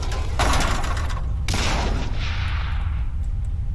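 Gunfire in the People Playground video game: two loud, sharp bursts about a second apart, each with a booming tail that rings out. Nobody speaks.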